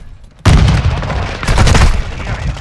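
Modern Warfare II match at Farm 18 with a sudden loud blast of gunfire and a burning thermite grenade, a dense roaring burst that surges again near the end, with little talk.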